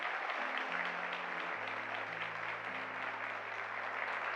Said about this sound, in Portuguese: Aplaude bem forte, que é para Jesus